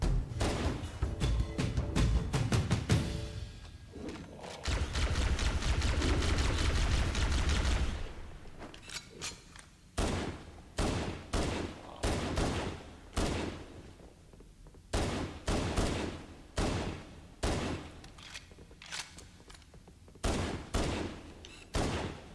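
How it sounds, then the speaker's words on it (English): Assault rifle fire in Halo: Combat Evolved opens with a long, dense stretch of sustained shooting, then breaks into a run of short, sharp bursts separated by brief pauses, all loud and close. "That's an assault rifle."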